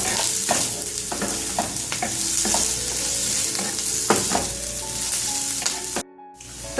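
Onion, garlic, ginger and curry leaves with salt sizzle steadily in a hot pan while a spoon stirs through them, giving repeated close scraping taps over the constant frying hiss, which briefly cuts out near the end.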